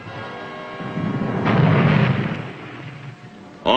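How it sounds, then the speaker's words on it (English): Deep booming depth charge blasts against the WWII submarine Seawolf, a heavy rumbling burst swelling mid-clip and fading, then a sharp second hit at the end. "Seawolf endured a merciless depth charge"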